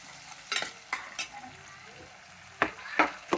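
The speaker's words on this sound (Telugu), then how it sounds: "ఉప్పు వేసుకొని బాగా వేయించుకోవాలండి. ఇది ఉల్లిపాయలు ఎర్రగా వేగాలి అన్నమాట." Onions frying with salt in a pan for sambar rice, with a soft sizzle underneath and a series of sharp, irregular scraping and stirring clatters, several bunched early and more near the end.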